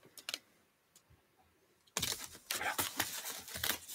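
Packing tape rips off an Xbox Series X box in loud tearing bursts after a quiet stretch of a few soft clicks and rustles.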